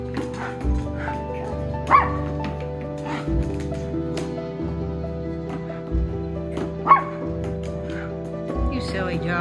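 A dog gives several short yips and barks, fairly close. They are spread across a steady tonal background hum.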